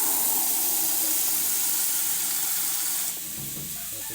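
Broth is poured into a pot of cooking mushrooms, a loud hissing sizzle and watery rush that suddenly drops to a softer simmering bubble near the end.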